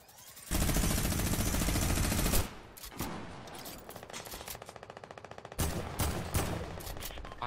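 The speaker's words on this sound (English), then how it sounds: "Oh yeah, I got a minigun." A minigun in Fortnite spinning up and firing a long, loud, continuous stream of rapid shots, then breaking into shorter stuttering bursts and fresh volleys.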